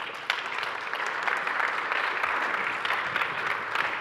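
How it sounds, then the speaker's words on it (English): Steady audience applause for two speakers at the Jamf JNUC 2025 conference, a continuous wash of many hands clapping at moderate level for about four seconds. "Have a warm applause for them."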